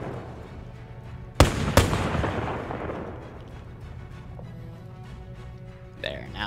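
An anti-aircraft gun position fires in a WWII German armor and aircraft game: two sharp, loud reports in quick succession ring out over low background rumble and game noise, and a further faint burst comes near the end.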